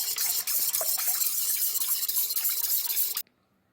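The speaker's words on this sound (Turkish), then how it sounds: "Tekrar çırpıyoruz." Egg whites and vegetable oil whisked together in a bowl, a steady, close, rapid wet clatter of the whisk that runs continuously for about three seconds, then stops abruptly.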